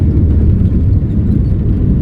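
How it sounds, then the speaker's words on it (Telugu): A passenger airplane landing at Gannavaram airport fills the space with a loud, continuous low rumble and roar, steady and close, with no voices. "ఫ్లైట్ ల్యాండ్ అయిపోయింది గన్నవరం"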